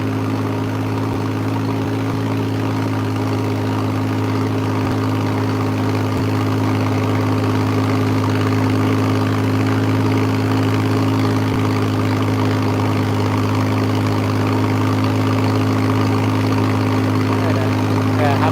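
The engine of a local passenger boat carrying tourists on the Ou River in Laos drones loudly and steadily throughout, a constant close mechanical hum with no pauses.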